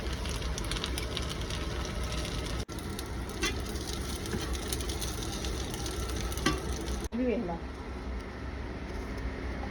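Cumin, carom seeds, mustard seeds and garlic roast in a pan with a continuous close sizzle and light crackle, while a person talks over it.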